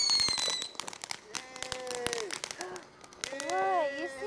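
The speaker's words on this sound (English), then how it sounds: "You see all the fireworks?" Sharp popping bursts crackle irregularly in the distance, overlapping with excited voices and a child's chatter nearby.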